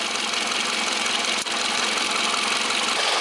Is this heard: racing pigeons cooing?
no